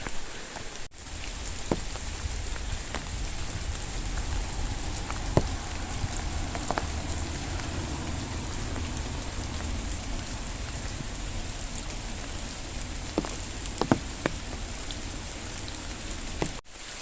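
Rain falls steadily by Nazlı Göl lake in Bolu, near a camping area with bungalow-style houses, making a continuous even patter with a few sharper drips close by and no voices.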